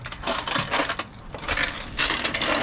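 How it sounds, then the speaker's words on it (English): Coins and a few keys rattle and clink inside a cash box found in a storage unit, shaken in several quick, loud metallic bursts close up. "it sounds like a silver piece is in there with some keys"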